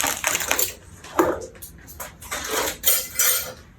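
A metal cookie sheet pan handled in a kitchen, with several sharp clanks and scraping clatters in quick succession, fairly close.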